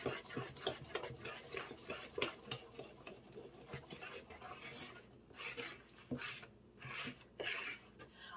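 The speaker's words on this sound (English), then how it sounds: "every time I've made this cake, I've just mixed it by hand like this" Chocolate cake batter being mixed by hand in a bowl, with a utensil making steady scraping, stirring strokes against the bowl in an uneven, continuous rhythm at close range, and no talk.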